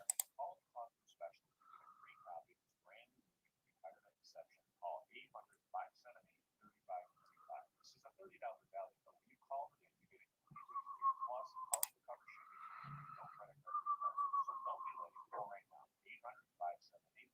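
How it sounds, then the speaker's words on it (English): Faint, quick clicking comes through a phone call, a long irregular string of light taps and ticks like keys or a mouse, with low voices and line noise now and then. "I hear you clicking, Sergey."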